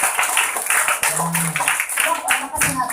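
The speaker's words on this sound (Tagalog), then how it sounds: "Palakpakan natin dahil si Lord nasa langit" Worshippers at a church service clap in a lively, sustained burst of overlapping hand claps, with voices and some talk underneath.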